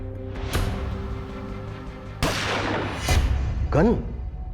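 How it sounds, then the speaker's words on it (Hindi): Gunshots ring out in a TV crime drama scene, two or three loud sharp cracks spaced over a few seconds amid tense background music and a voice. "लड़की ने गोली सेल्फ डिफेंस में चलाई है"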